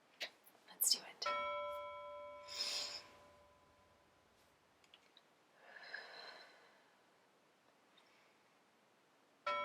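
A single bright bell strike rings out and decays slowly, followed by soft breathing sounds and quiet rustling.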